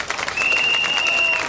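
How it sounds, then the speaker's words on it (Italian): An outdoor evening event crowd in Ruvo di Puglia breaks into brief applause for sponsors, a quick burst of dense clapping with a thin whistle running through it. "Facciamo un applauso quindi per tutti questi sponsor che hanno reso possibile questa serata."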